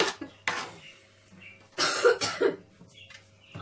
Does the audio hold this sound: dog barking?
no